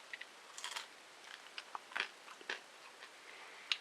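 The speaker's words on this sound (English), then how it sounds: "let's just have a nibble of this carroty bit and see what that tastes like" Close, quiet crunching bites into a crunchy biscuit made from carrot juicer pulp, with irregular crisp snaps and chewing scattered over a few seconds and no talking.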